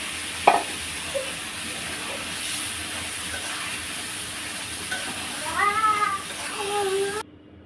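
Spice masala fries in a pan, a steady oily hiss with a clank of the spoon early on, while a cat meows several times near the end.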